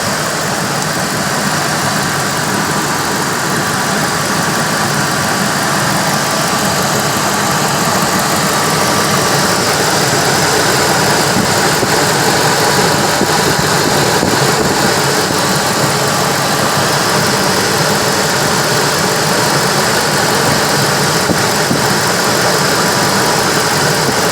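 Ford Expedition engine idling steadily with the alternator charging, a loud, continuous close-up engine drone with no speech.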